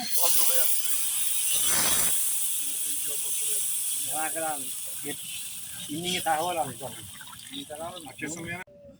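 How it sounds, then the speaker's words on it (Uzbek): Water pours steadily into a cooking pot with a hissing, splashing rush, while several people talk nearby throughout. "Suvni quydik."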